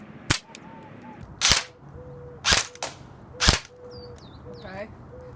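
A Lancer Tactical LT-04T M4 Gen2 airsoft rifle fires at pieces of watermelon in four sharp, evenly spaced cracks, close and loud, with faint chirps in the background between shots.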